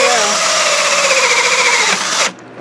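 A power drill whines loudly and steadily while cutting a hole, holding a continuous high-pitched drone for about two seconds before stopping abruptly.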